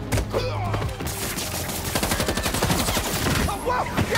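Rapid bursts of gunfire in the Marvel's Spider-Man 2 video game, dense and loud, with dull thuds and impacts running throughout the short burst.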